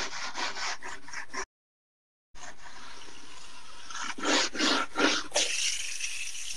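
A scrubber brush rubbing foil over an epoxy cornhole board, heard as close, repeated scratchy back-and-forth strokes that are briefly cut by a gap of silence and then continue.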